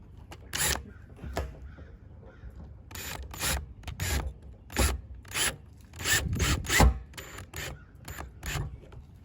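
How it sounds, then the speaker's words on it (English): A Phillips screwdriver drives screws into a rain barrel spigot, producing repeated short bursts of ratcheting, grinding twists separated by pauses. The sound is close and moderately loud, with no talking. "All right, let's try to get these screws in now."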